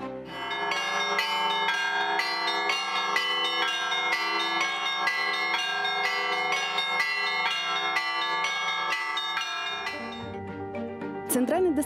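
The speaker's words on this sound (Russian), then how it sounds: "Удивительная тишина окутывает скромный городок и нарушается лишь время от времени колокольным звоном" Church bells of Verkhoturye, a small quiet Ural town, ringing in a steady, sustained peal of layered metallic strikes that fades out near the end before a brief voice.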